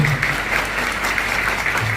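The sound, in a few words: congress audience applauding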